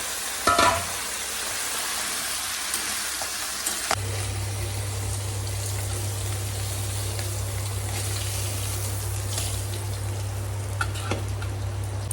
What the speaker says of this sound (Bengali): মাছটাও একটা সাইড ভাজা হয়ে আসছে।